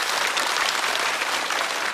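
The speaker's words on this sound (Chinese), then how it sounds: "再次掌声送给贾浩" A studio audience at a stand-up comedy show claps in a dense, steady burst of applause, close and full for the whole moment.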